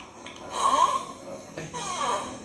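A person snores in two long rasping, whirring breaths with a gap between, close and moderately loud, the buzz likened to a small Tamiya toy car motor.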